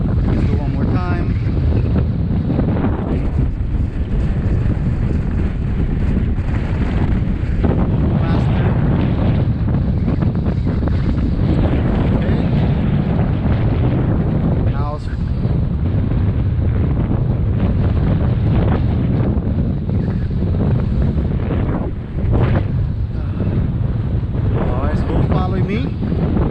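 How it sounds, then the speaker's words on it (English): Strong hurricane wind roars and buffets the microphone continuously during a Onewheel ride, loud and close throughout, with a person's voice faintly mixed in. "I can feel the wind blowing on me in the Onewheel"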